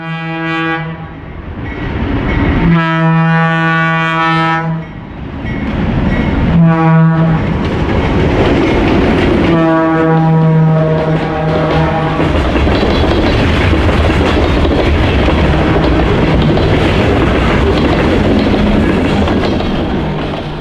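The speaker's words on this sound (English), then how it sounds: "GVT number 2035 was doing the honors, pulling a short manifest train to serve the railroad's customers in Brockport." An ALCO RS-32 diesel locomotive, GVT number 2035, hauls a short manifest freight train in New York state, its horn blowing in repeated long blasts over a steady, loud rumble of engine and passing railcars, with no talk.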